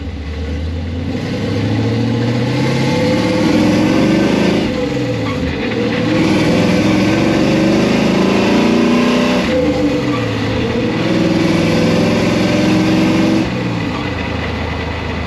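A Pontiac Firebird field find with a freshly swapped 4-speed manual gearbox drives along, its engine droning loudly and steadily with rising and falling revs through gear changes, noisy bearings whining in second gear, no talking over it.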